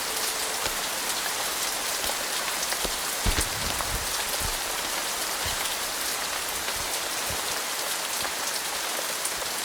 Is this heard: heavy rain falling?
yes